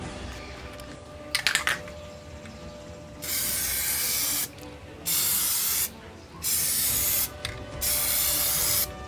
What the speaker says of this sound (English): I can do another spritz on there